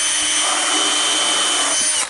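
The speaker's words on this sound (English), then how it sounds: "I'll add an extra screw for it" A power drill drives an extra screw into wood on a pergola joist end, giving one continuous close, loud whirring burst of about two seconds that cuts off sharply at the end.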